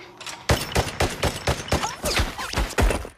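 A rapid series of about ten loud gunshots rings out in a war film scene, closely spaced and sharp, with no talk over them.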